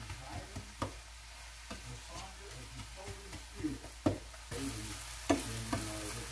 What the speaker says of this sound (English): Stir fry these onions. We're going to stir fry that really well.